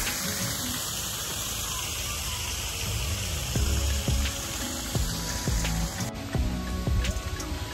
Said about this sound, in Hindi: ऐसे झरने आपको यहाँ पे काफ़ी दिखाई देंगे।